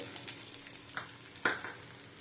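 Ginger paste and curry leaves fry in hot oil, giving a soft steady sizzle with a few sharper crackles and a spatter burst near the middle, heard close with no talking.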